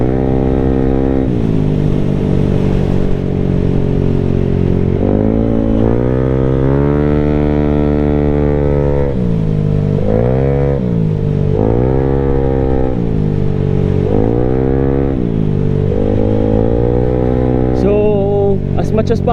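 A 213cc scooter engine fitted with performance parts revs up and down repeatedly: a loud, close, buzzing idle swells into sharp, rising revs several times before dropping back, with no talk over it.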